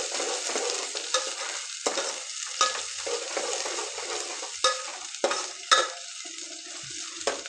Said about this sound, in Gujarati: હવે બરોબર મિક્સ કરી લઈએ।